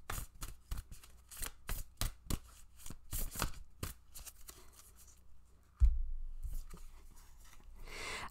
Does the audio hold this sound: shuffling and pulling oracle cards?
yes